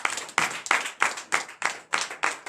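Hands clap in a steady rhythm at a morning prayer service in Benin, with about eight crisp, evenly spaced beats roughly a third of a second apart. The claps are fairly close and clear, with no talking between them.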